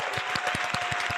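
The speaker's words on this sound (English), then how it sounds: "We're going to give you a round of applause." Round of applause at the close of a podcast interview, a short run of rhythmic hand claps, steady and moderately close.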